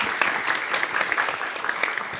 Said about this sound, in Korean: 우리 김 박사님에게 큰 박수 한번 부탁드립니다